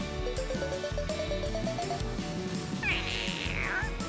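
A cartoon cat gives a drawn-out meow over bouncy background music, loud and close, following a short repeating melodic figure.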